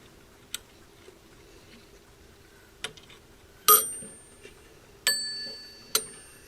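An old telephone bell mechanism struck a few times, giving short, bright metallic dings that ring out and decay, close by, among small ticks and handling clicks with no talk.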